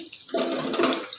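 Two finely chopped onions hit hot ghee in a pan for a potato and wadiyan curry, setting off a sudden, loud, steady sizzle that hisses on for about a second.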